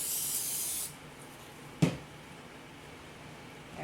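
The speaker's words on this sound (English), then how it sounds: "So you may have to respray your hands again," Cooking spray hisses steadily onto hands for a little under a second while marshmallow fondant is being made, followed by near silence with one short knock partway through.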